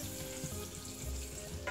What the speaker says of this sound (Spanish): Tengo ya un poquito de aceite calentando y le echaremos media